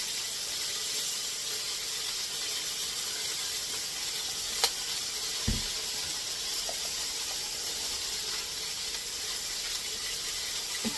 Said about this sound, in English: Want to give those a nice little sweat, a little salt and pepper.